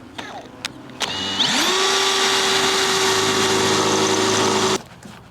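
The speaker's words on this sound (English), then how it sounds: "I'm gonna drill our placement holes." A power drill boring placement holes into a Honda Civic body panel: a few short taps and clicks, then the motor spins up to a loud, steady whine for several seconds before stopping abruptly.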